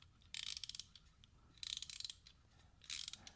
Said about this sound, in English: So now you have the ratchet mechanism, and you either insert it from this side, and that's going to loosen